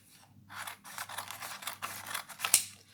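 Scissors snip through paper while a door sign is cut out for a scrapbooking craft, a run of close, quick crisp cuts ending in a sharp clack.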